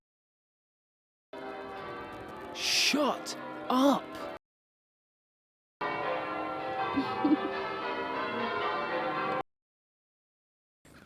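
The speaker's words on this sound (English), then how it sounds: "One thing I could not live with is these blimmin' bells on this street." Church bells ring loudly along a street in a small UK city, sustained bright tolling in two long bursts separated by silence, with a voice speaking briefly over the first burst.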